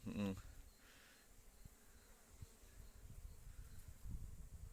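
Low honey bee buzzing at a hive during evening flight in March hums steadily in the background, a faint swarm-like drone with a brief louder sound at the start.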